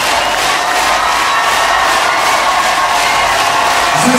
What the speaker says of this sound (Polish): to są brawa na tych polskich par.